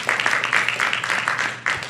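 A conference audience applauding a panel at a foundation forum, dense steady clapping from many hands at close range with no break.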